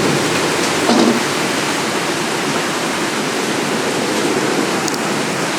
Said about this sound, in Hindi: जोर गिर रहा है पानी